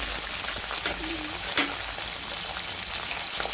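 Cumin, mustard seeds and green chillies crackling in hot oil, a loud dense continuous sizzle close up with faint popping and a stray scrape, alone without talk.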